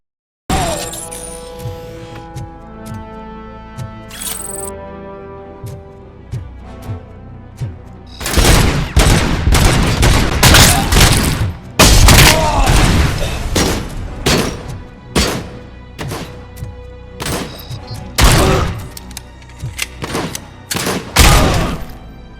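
Gunfire in the Robocop Rogue City video game: after a quiet, musical opening, loud bursts of rapid shots and heavy impacts erupt and keep going in dense, clustered volleys, with crashing and breaking debris mixed in.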